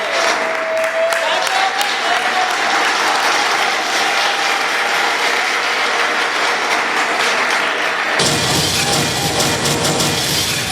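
Dense, loud applause from an audience at a Congolese evening event in Drummondville, Canada, cheering a female singer, a steady roar of clapping throughout that turns harsher and more rattling near the end.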